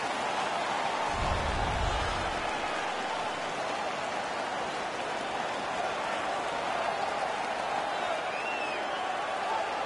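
A dense hockey arena crowd in a PS4 game between Tampa Bay and Chicago roars steadily, a constant wash of cheering with a brief low thump early on, under commentary.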